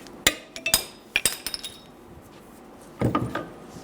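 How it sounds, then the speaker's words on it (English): Sharp metallic strikes of a hammer on a punch ring out against the race of a wheel bearing on a 2011-2014 Hyundai Sonata, a few spaced blows and quick taps, then a heavier, duller hit near the end. "we're going to take a punch and a hammer. We're going to go inside of that groove and split the bearing"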